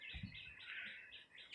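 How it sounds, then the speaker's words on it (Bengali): Soft bird chirps and calls repeat quickly and faintly from pigeons settling onto a farm rooftop, a few low flutters mixed in near the start, with no talking. "আস্তে আস্তে সমস্ত কবুতর নামতিছে"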